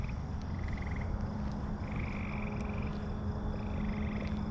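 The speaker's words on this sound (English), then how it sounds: "Well, listen to the stuff that's carrying on. Froggies." Frogs croak at night, several repeated pulsing trills that rise and fade in turn over a low, steady background hum, moderately distant and faint, with no talking.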